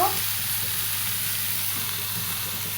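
Steady, loud sizzling of ingredients frying in a pan for a sweet pumpkin greens dish, a continuous close hiss with no pauses.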